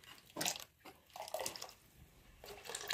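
Water from a freshly broken coconut is poured into a clay-pot fish curry in a series of short, quiet splashes and trickles separated by brief pauses.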